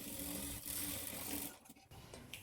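A sewing machine stitches blouse fabric, a steady close mechanical whir running for about a second and a half before easing off into softer handling noises.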